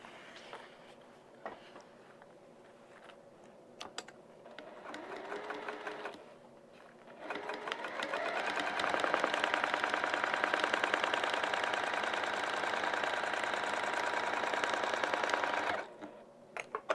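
A sewing machine stitches down a vinyl project bag, running in short bursts at first and then in a long, steady loud run before stopping abruptly.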